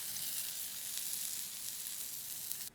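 Fresh salmon fillets sear in a hot pan, giving a steady, close sizzle with a bright crackling hiss that holds evenly throughout, with no voices.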